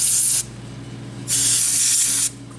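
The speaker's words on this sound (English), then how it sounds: "like some brake clean, compressed air, or a little bit of both" Brake cleaner or compressed air blasts onto diesel fuel injector parts of a Mercedes 300SD in two loud, close hissing bursts, one short at the start and a longer one after a brief pause, over a low steady hum.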